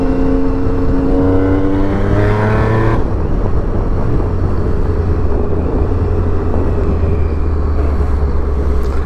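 An old car, a relic, accelerates hard with its engine note climbing in pitch, then shifts gear about three seconds in and drones on at a steady, loud roar.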